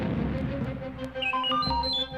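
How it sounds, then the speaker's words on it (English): R2-D2 the droid beeping furiously: a rapid run of electronic chirps and warbling tones rising and falling in pitch, close and prominent over a busy background. "He burst in, beeping furiously to C-3PO"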